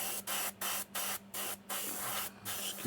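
An airbrush sprays paint onto model sabertooth cats in short repeated bursts, a close steady hiss broken by brief pauses, with no talking.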